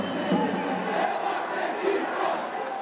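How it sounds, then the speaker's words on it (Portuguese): Portuguesa football supporters shout and chant in a Brazilian stadium, a steady, moderately distant crowd roar lasting about three seconds with no clear breaks. "Apesar do grito da torcida"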